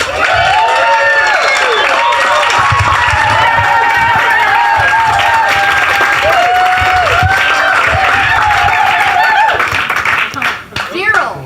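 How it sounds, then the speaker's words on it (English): Loud applause and cheering from a conference crowd greeting a blockchain speaker, with voices and whoops over continuous clapping that fades out near the end. "Thunderous applause for Moses Ma."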